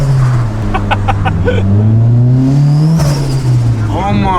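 A modified car with a V8 turbo engine accelerates hard, its deep engine note rising steadily and loud throughout, with people talking over it.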